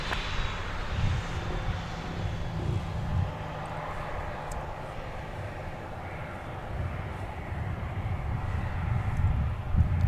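An airliner takes off from runway 17 at Minneapolis–St. Paul Airport. Its jet engines make a steady, broad roar that holds for the whole stretch, with some wind noise and no voices.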